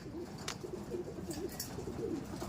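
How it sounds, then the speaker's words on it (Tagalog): Pigeons cooing softly nearby, repeated low throaty coos over quiet background noise, with a couple of brief flutters. "Sa lukoy nagpapakain tayo ng mga ibon natin."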